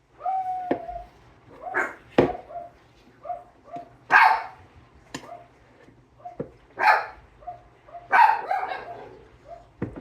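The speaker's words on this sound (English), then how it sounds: "my dog barking" A dog barks repeatedly indoors, sharp yips and barks spaced a second or two apart at moderate distance, with a faint steady hum underneath.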